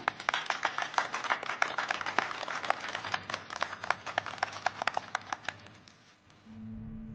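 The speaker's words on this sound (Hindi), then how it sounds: "तालियां!" Office staff clap together for a company achievement, a small group's quick, uneven handclaps close by, the patter thinning out and stopping near the end, followed by a low hum.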